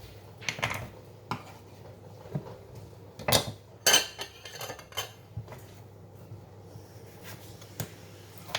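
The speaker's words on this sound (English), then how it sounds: "Just gonna simple cut it like this and like this." A very sharp knife chops ingredients for homemade salsa on a board, a run of irregular light taps and clicks, close but quiet, with no one speaking.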